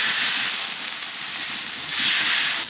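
Water poured into a hot iron wok of stir-fried garlic, ginger and chili meat sends up a loud, steady hiss of steam that swells and sizzles close by without pause.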